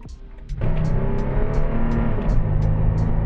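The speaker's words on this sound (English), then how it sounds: "I'm gonna give it some gas and let's see how it does" Off-road vehicle with an upgraded throttle controller accelerating hard from a quieter idle, its engine surging loud and close into a steady, rising roar that holds for a few seconds.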